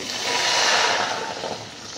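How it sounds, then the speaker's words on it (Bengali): A kilogram of milk poured into a wok after fried sago is lifted out makes a steady, close, hissing liquid rush, swelling and then easing over a couple of seconds. "সাবুদানাগুলো তুলে নেবার পর ওই কড়াইতে দিয়ে দিচ্ছি 1 কেজি দুধ"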